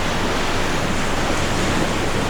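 Class 2 rapids on the West Montreal River roar as a steady, dense rush of whitewater waves, loud and close, filling the whole moment with unbroken noise and no voices.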